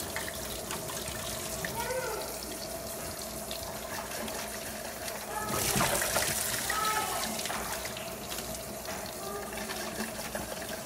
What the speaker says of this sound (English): shake it in the bleach solution, and rinse it off